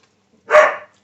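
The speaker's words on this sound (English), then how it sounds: "That would be the dog I'm doggy sitting." One sharp, close bark from a house dog, a single loud burst that fades quickly into silence.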